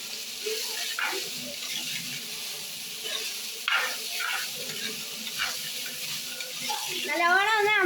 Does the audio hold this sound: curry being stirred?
yes